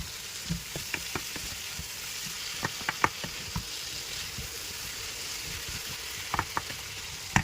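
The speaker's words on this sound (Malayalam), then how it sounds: "ഇനി ഇട്ട മസാല ഒന്നുകൂടെ നമുക്കൊന്ന് ഇളക്കി മിക്സ് ആക്കണം." Masala and a chicken curry base for coconut milk chicken curry fry in a pan while being stirred. A steady close sizzle carries scattered scraping clicks and knocks from the spoon, and no one speaks.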